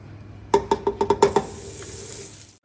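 Butter melts in a pan with a little oil, starting with a quick series of about seven sharp, close metallic taps, then a soft steady sizzle that fades away.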